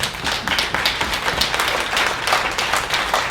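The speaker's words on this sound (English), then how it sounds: "let's give them a round of applause." Attendees at a county emergency committee meeting give a short round of applause, with close, steady clapping from a modest group lasting a few seconds.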